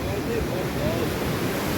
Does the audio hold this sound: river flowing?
yes